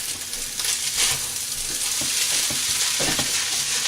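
Soy sauce hitting a hot pan of breakfast fried rice, a loud close sizzle with repeated scraping stir strokes of the spatula in an uneven rhythm, no talking.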